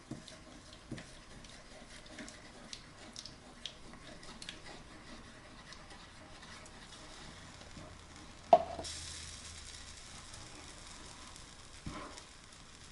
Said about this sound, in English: So we combine it with the sweetener. Stir that in.